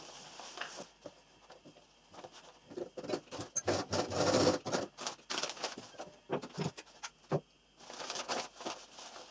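A sewing machine topstitches the edge of a dress bodice. It runs in uneven bursts of rapid mechanical patter, with short pauses between runs, close by, and no one speaks.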